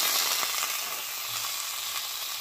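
Bacon-wrapped woodcock, salted and peppered, sizzles steadily in a pan of bacon grease over low heat, a continuous close crackling hiss with small pops throughout.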